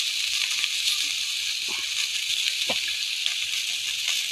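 Chopped onion, chili and tomato are stirred in a hot pan, giving a steady hiss of sizzling with a few soft scrapes and clicks of the spoon.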